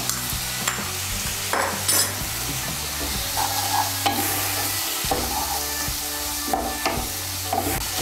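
Chopped tomato being stirred and fried into spices in oil for a Bengali cauliflower curry, loud close sizzling with repeated spatula scrapes and knocks against the pan, no speech.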